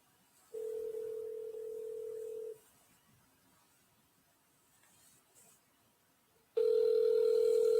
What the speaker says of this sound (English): You don't want to pick the phone.